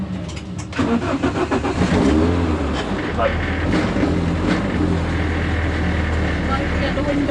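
A race car engine runs loudly nearby before a race, with a sharp start-up burst and then a steady, throbbing drone under some muffled voices.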